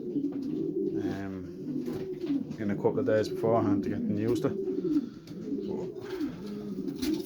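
Breeding stock pigeons in a loft give low, throaty coos that rise and fall repeatedly, layered under someone talking nearby.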